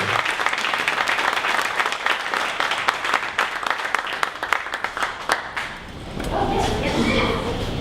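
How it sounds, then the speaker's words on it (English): Audience applause after a startup pitch at a 1 Million Cups Dallas event, full clapping that thins into scattered claps and then fades out, as voices begin talking near the end. "one more round of applause for Ride Along Media."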